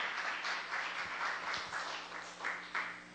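Congregation applauding during a church sermon, a soft, distant patter of clapping with a low steady hum beneath, fairly faint and uniform.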